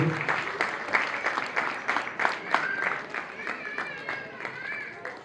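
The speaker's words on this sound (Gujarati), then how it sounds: "જોરદાર તાળીઓ" Audience applause and cheering at a school annual day celebration, a broad burst of clapping from a crowd, with voices mixed in throughout.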